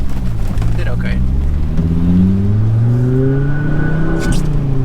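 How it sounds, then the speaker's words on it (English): A big-turbo Volvo S60R engine roars as it accelerates, turbo loud, pitch climbing steadily through the gears, loud and close from inside the car. "that turbo is just so loud and it sounds so good"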